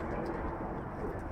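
Young racing pigeons cooing in a loft, a soft low continuous murmur of coos close by, with a faint background hum.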